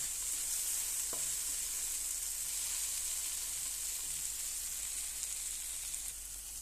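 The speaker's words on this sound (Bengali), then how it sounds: "তো আমার ভেন্ডি ভাজিটা আজকে দিনে হইতেছে। দেখেন এটা আমি লাইরা নিতেছি।" Okra sizzles steadily in a pan on a stove turned down low, a constant bright hiss of frying with a few faint scrapes of stirring, heard alone without any voice.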